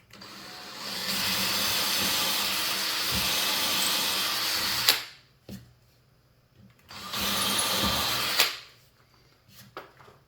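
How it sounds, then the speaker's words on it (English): A power drill whirs steadily in two bursts, drilling a small pilot hole in a board, each a few seconds long and ending abruptly, with quiet pauses and small clicks between them. "Just gonna drill a little pilot hole."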